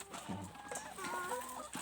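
Egg-laying hens on a small backyard farm cluck in short, close bursts, several birds overlapping in a busy, scratchy chatter with no voices.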